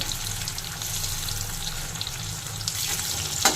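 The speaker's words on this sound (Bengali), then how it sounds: "আলুগুলো আগে একটু লাল করে ভেজে নেব" Cut potato pieces with salt frying in a pan, a steady moderate sizzle close by, ending with a brief sharp clink.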